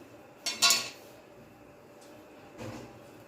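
Whole cinnamon sticks, cloves, star anise and black cardamom dropped into a cooking pot for Lahore-style raan and rice, giving two short clattering bursts close by, the first sharper and louder, the second softer, with no talk over them.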